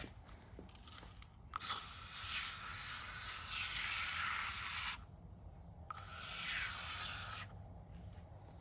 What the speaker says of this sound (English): what I'm going to use to clean this is some of this stuff, foaming cleaner